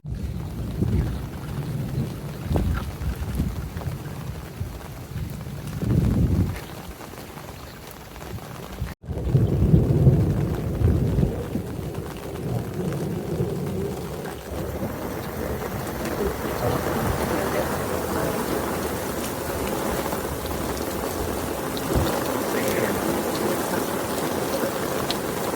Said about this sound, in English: Raining hard enough that there's a river running down through the yard.